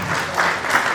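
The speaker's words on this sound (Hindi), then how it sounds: "जोरदार ताली के साथ।" Loud applause from an audience at a human rights council gathering, a dense, continuous burst of many hands clapping at close range.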